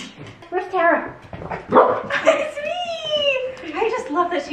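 A puppy gives short yips and whiny barks close by while people talk over and around it.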